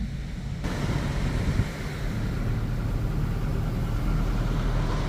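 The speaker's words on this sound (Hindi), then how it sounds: "ठाठे मारता समंदर, और एक तरफ पहाड़ और दूसरी तरफ समंदर" Ocean surf on the Durban coast in South Africa, a steady broad wash of waves heard from a moving car, mixed with road and wind rumble and continuing without a break.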